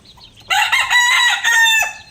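Backyard chickens, including black hens, with a rooster crowing loudly and close by, its call rising and holding for over a second, under a few clucks from the flock.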